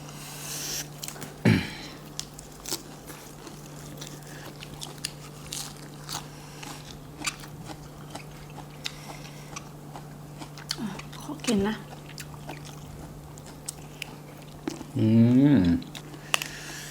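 Close-up chewing and biting of spicy papaya salad, with soft wet crunches, sniffs and small mouth sounds scattered across a quiet stretch and a steady hum underneath, plus a few short vocal sounds near the end.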